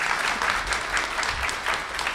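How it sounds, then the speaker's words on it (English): Convention crowd at San Diego Comic-Con clapping steadily, a dense continuous wash of many hands filling the room, fairly loud with no voices on top. "You can clap, too. Clapping's fun."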